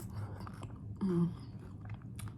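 Quiet, close chewing of a taco during a taco-night mukbang, with soft wet mouth sounds running steadily through the clip and a brief louder bite or smack near the middle.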